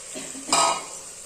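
Potato-and-vadi curry masala frying in a pan as the vadi go in, giving a short clattering, sizzling burst midway through an otherwise quiet, low stir, with no talking.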